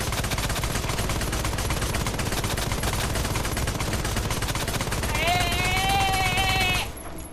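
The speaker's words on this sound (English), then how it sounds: "We got weapons that fire as fast as a machine gun." Rapid automatic gunfire from the Resident Evil video game on PS4, a dense continuous barrage with game music and a rising tone near the end before it cuts off.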